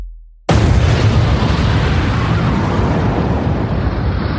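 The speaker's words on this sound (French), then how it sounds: "une explosion gigantesque dévaste l'usine pétrochimique AZF" The AZF petrochemical plant in Toulouse explodes in a sudden, very loud blast that bursts out of near silence and rolls on as a sustained, heavy roar that slowly fades.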